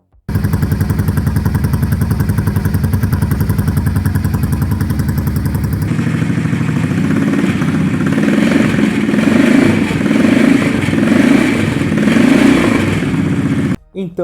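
A V2 motorcycle engine running with the cylinders firing almost together, so it sounds like a single-cylinder. It idles with a rapid, even thumping pulse, then revs into a rougher, louder clattering burst before cutting off, close and alone.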